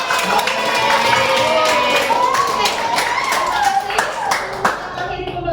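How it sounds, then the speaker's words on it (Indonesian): Classroom applause from a group of schoolchildren, loud and sustained clapping that tapers off toward the end, with voices mixed in. "Kita kasih aplaus dulu untuk pembelajaran."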